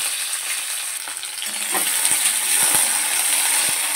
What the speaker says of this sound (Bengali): দেখো ভেন্ডিগুলো আমি ভাজতে ছেড়ে দিয়েছি